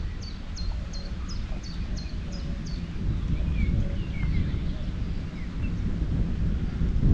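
Steady low wind rumble buffets the microphone throughout on a lake while fishing from a boat, with faint bird chirps and calls scattered in the background.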